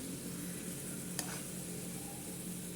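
Greens sizzle steadily in a hot pan for cooking taro with greens, with one sharp scrape of a spoon stirring them partway through; close and continuous, with no voices.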